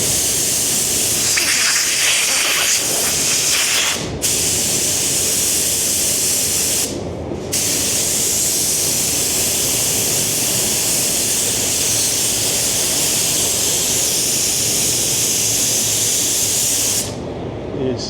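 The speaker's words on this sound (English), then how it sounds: "still again spraying at 2 bar, so we're going to put a coat on there" Spray gun spraying a paint coat at 2 bar on a Lamborghini Revuelto: a loud, close, continuous hiss lasting many seconds, broken by a few brief pauses.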